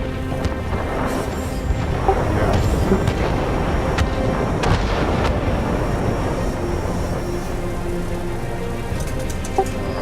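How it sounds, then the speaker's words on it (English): Bombs from a Junkers Ju 88A bomber in a World War II flight game burst amid a steady loud engine roar, with dense rumbling detonations and scattered sharp cracks. "Dropping the rest of my bombs to begin the reload."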